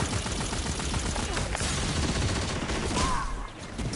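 Rapid gunfire in the Destiny 2 video game, including enemy sniper shots, comes as a dense, continuous fusillade of overlapping cracks and bursts, loud and unbroken throughout the fight.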